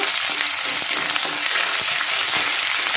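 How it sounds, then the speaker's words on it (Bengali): Chopped onion hits hot oil already seasoned with whole cumin seeds and is stirred, giving a loud, steady, close sizzle that runs without pause. "এবার আমি কুচানো পেঁয়াজটা দিয়ে দেবো। পেঁয়াজটাও একটু নেড়ে নেব।"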